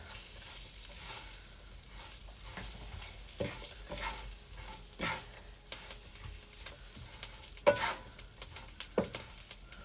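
Food sizzles and fries steadily in a pan while being stirred, with scraping strokes and occasional clinks over a constant hiss, close and moderate in level, no voices.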